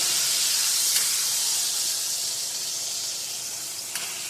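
Pot roast beef searing in a hot pan, a loud, steady sizzle and hiss that holds throughout and eases slightly toward the end, with faint ticks.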